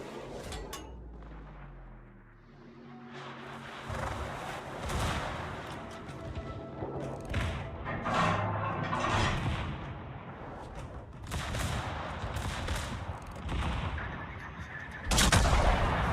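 A warship's main battery salvo fires in World of Warships, with heavy booming gun blasts repeating every second or two, loud and close, their rumbling tails overlapping into a continuous roar of naval gunfire.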